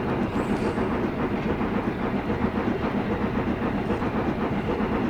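A passing train on the Settle to Carlisle route between Dent and Appleby in Train Simulator Classic, heard as a steady loud rumble and hiss of rolling wheels with faint rhythmic clatter throughout.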